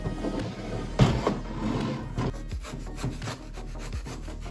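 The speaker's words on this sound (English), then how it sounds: "First I'm going to start cutting the excess foam away from the inside of the mouth opening." Cured foam is cut and shaped with close, rasping strokes, scraping and rubbing in short irregular bursts with a sharper knock near the start, and no voices.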